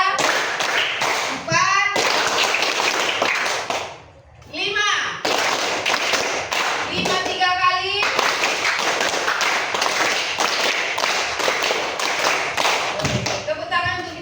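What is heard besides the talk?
children's rhythmic clapping game (tepuk 1, 2, 3)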